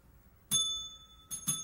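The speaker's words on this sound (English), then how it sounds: "I said quit ringing the..." A shop counter bell in a fix-it shop rings once, then twice more in quick succession, each a bright metallic ding with a lingering ring, close and fairly loud against a quiet room.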